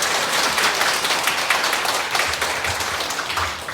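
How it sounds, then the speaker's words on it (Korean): A church congregation claps in praise after a prayer, loud, dense and sustained applause filling the hall at close range, with no speech over it. "우리 함께 해주신 우리 성모님 그리고 예수님께 참여 영광 박수 올려드립니다"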